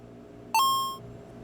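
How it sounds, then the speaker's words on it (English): Single kitchen timer beep rings out clearly once in a quiet kitchen during a tortilla turkey pinwheel cooking lesson, a bright electronic tone lasting about half a second before cutting off. "Here's a timer."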